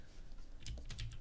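Several crisp keystrokes on a computer keyboard with satisfying-sounding switches, clicking in a quick irregular burst, close and clear with no voices.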